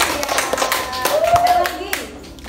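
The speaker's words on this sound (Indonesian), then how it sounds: "Tepuk tangan dulu." Hands clap in a classroom lesson on the Indonesian proclamation, a short burst of group applause with sharp, dense claps fading out and faint voices around it.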